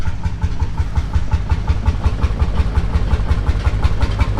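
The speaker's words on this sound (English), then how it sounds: "that distinctive bop-bopping noise you can hear is another Lance Bulldog" A Lanz Bulldog tractor engine running at a historic machinery rally, a loud, close, steady low thumping beat repeating rapidly and evenly throughout, with no talk over it.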